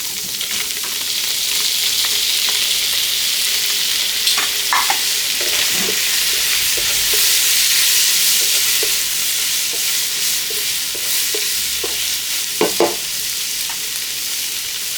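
Chinese chives stir-fry in a hot pan for a tofu noodle dish, giving a loud continuous sizzle with scattered scraping and tossing knocks of the spatula throughout.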